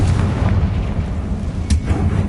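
A booming explosion from the Confringo spell in the video game Hogwarts Legacy, a dense sustained blast with a sharper burst near the end and no talk.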